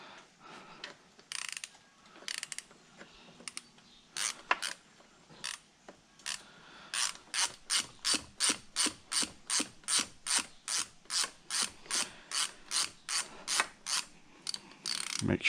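A ratchet works loose the tail shaft bolts on a 4R70W transmission, first in sparse clicks, then in a steady run of quick, close, rhythmic ratcheting strokes with no talk.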